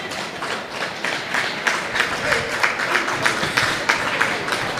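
A large crowd fills a high school basketball gym at a Pleasant Grove vs Linden game, a steady roar of murmuring spectators with scattered claps and taps throughout.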